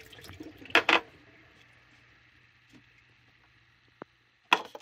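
Soaking water is dumped out of a jar of sprouting seeds, with a couple of close splashing gushes, a faint steady hum, a brief click, and another splash at the end.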